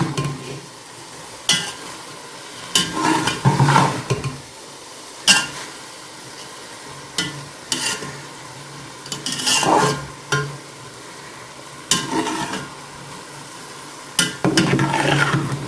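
A spoon stirs cooked rice for mutanjan sweet rice in a pot over medium heat, giving soft scrapes and clinks in irregular bursts with quiet gaps between them and a faint sizzle under it.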